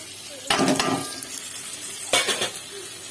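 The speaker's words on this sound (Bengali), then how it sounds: "ভালো করে মশলাটা ভালো করে কষিয়ে নেব।" Spice paste with tomato, ginger and green chili being sautéed in a pan: a steady sizzle underneath, with two bursts of spatula scraping and stirring against the pan, about a second and a half apart, and no talk.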